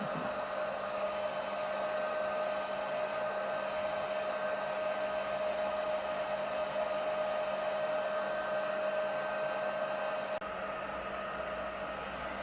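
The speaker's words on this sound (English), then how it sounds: "the heat gun too close to the design, and keep it moving" A heat gun blowing hot air onto a candle: a constant, close, whooshing roar with a steady whine on top, unchanging throughout and with no voices.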